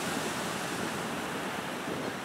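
Atlantic surf breaking on the beach, a steady, broad roar of crashing waves mixed with wind across the microphone, loud and continuous without voices.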